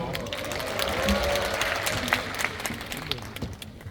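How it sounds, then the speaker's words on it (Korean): A cinema audience applauds as actors and the director arrive for a stage greeting at a screening of the Korean film 12.12: The Day, with steady, dense clapping from a nearby crowd throughout. "저희 배우분들과 감독님 모시고 인사드리겠습니다. 큰 박수로 맞이해 주십시오."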